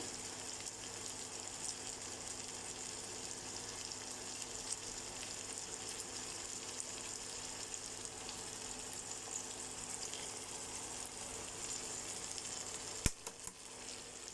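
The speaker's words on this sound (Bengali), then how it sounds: "আমি ডিমও দিয়ে দিচ্ছি।" Two eggs fry in a pan with a steady, faint, even sizzle that hisses on without a break, heard up close with a small clatter near the end and no speech.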